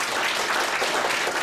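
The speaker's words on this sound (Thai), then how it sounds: "If no, give a round of applause for life." Audience applause at a business seminar, steady dense clapping from a crowd filling the whole moment without a break.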